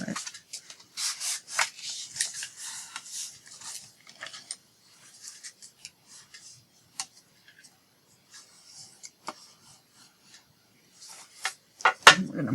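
Paper is folded and creased by hand, heard as soft rubbing and crinkling strokes with occasional sharp taps, close and faint, with a few quiet pauses between bursts.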